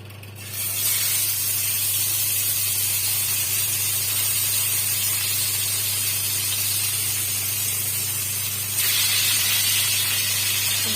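Bhola fish dropped into hot oil in a wok set off a loud, steady sizzling hiss that starts abruptly and continues unbroken, briefly growing louder near the end.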